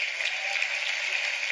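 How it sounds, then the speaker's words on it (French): A live audience at an Éric Antoine comedy show bursts into steady, dense applause, a continuous crackle of many hands clapping at once, close and full for the whole stretch with no voices. "Là, vous venez d'applaudir une multiplication"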